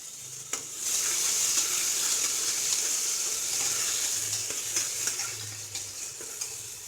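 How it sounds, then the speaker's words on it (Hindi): Chopped onions fry in a pan toward golden brown, giving a close, continuous bright sizzle with occasional stirring knocks and scrapes. "यहाँ पर मैंने जो हमारे कटे हुए प्याज थे यानी कि चॉप्ड अनियन, वो भी मैं ऐड कर चुकी हूँ और इसे सुनहरा होने तक मैं भून लूँगी"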